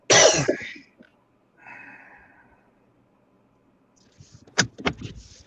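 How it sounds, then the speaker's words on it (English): A man coughs harshly once up close, followed by quiet shuffling and short sharp noises or throat sounds, in a quiet room. "my cough's almost gone away"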